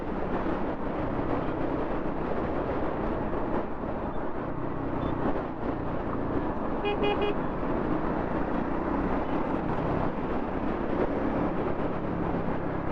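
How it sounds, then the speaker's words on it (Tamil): Heavy traffic on a bridge, heard from a Triumph Speed 400 motorcycle: a constant loud roar of engines and road noise, with a single short car horn toot around the middle. "ஆஹா, பிரிட்ஜில் செம்ம டிராஃபிக்காக இருக்குது."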